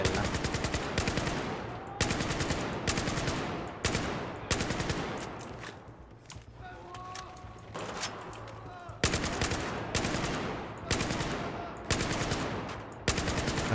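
Rapid automatic gunfire from a Battlefield 4 firefight rattles in long sustained bursts with brief pauses, loud and close, no speech over it.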